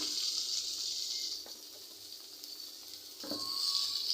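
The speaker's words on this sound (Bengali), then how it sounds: "এই পেঁয়াজের ভিতরে আমি আলু কেটে রেখেছি সেগুলো দিয়ে দিলাম" Sliced potatoes fried with onions in a pan, a steady bright sizzle throughout with a couple of soft clanks from stirring, close and fairly loud.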